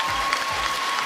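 A brief burst of crowd applause for a placed team at a competition, dense and even clapping filling the whole second with a thin steady tone beneath it.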